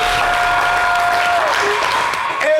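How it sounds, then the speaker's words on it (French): Applause from a studio audience on a TV variety show set, loud sustained clapping with a faint tonal whistle or voice threading through it near the end. "nous avons reçu sur ce plateau Mimi Blonde, que je vous demande d'applaudir."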